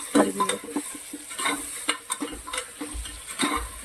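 A spoon stirs tomatoes into masala for Girnari khichdi in a pot, with repeated close scrapes and clinks against the metal over a light sizzle and a few soft low thumps.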